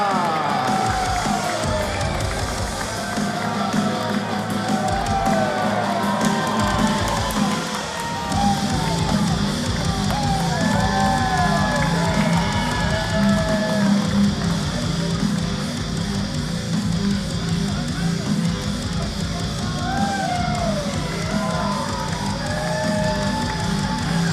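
A wrestling arena crowd cheers the entrance of Ninja Facade at an OVW show, a dense steady roar with whistles, yells and scattered shouts sustained throughout, loud and enveloping.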